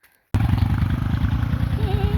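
A Royal Enfield Himalayan motorcycle rides off, its engine cutting in abruptly and loud with a thumping single-cylinder pulse that holds steady as a faint whistle rises near the end.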